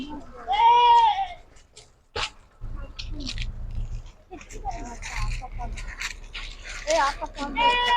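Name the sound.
goats bleating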